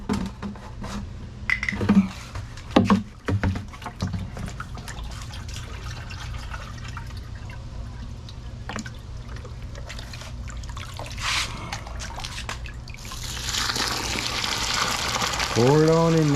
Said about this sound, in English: Pour it on in there just like with the other teas.